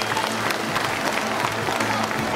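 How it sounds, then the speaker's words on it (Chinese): A crowd at a sea lion show in Hualien Ocean Park applauds the two trainers. The clapping comes as a steady, moderately distant wash of many hands with a faint crowd murmur beneath. "再给他们这两位辛苦的训练师一次热烈的掌声鼓励。"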